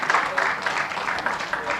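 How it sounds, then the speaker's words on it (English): An audience at a ceremony applauds the honorable minister, with brief scattered clapping that rises and falls over murmured voices in a room. "Can we clap properly for Her Excellency"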